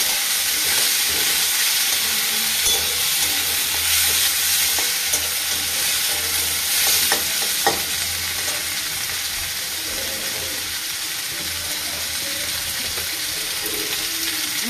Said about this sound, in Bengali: ভালো করে ভেজে নেবো, নাড়াচাড়া করে নেবো ভালো করে।